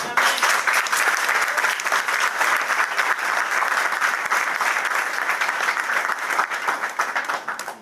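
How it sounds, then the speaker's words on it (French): A crowd applauds at a memorial tribute evening, with dense, sustained clapping at a steady level that continues for several seconds before tapering slightly at the end. "on doit applaudir Michael"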